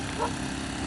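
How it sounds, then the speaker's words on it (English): A dog named Rusty barks once at a campsite, a single short bark heard at some distance over a steady generator-like hum. "Old Rusty's barking."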